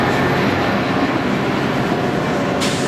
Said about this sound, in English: We do have a train coming.